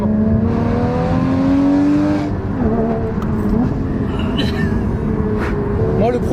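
Porsche Cayman GT4 engine running steadily with a droning, slightly rising tone and a few revs, heard up close from inside the car with people talking over it throughout.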